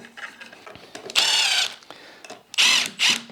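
A power driver runs Torx screws into the back panel of a Sjobergs workbench cabinet, pre-drilled and pre-tapped, in two short whirring bursts with small clicks and handling noises between them.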